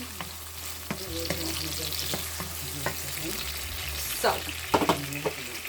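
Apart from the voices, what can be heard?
onions frying in a pan for Portuguese pork steaks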